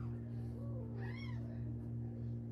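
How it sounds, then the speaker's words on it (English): A mother cat near her kittens gives a single short, faint meow over a steady low electrical hum. "I need to check on this kitten and this cat because I hear the mama saying something too."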